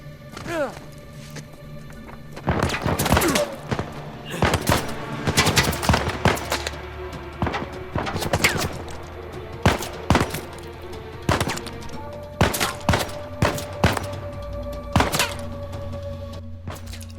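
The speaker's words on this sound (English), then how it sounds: "Lots of bullets firing in all directions, and me without a proper weapon." Gunfire and ricocheting bullets in Uncharted 4, with repeated sharp shots and bursts coming from several directions, some close and punchy, others lighter, over a low rumbling game backdrop.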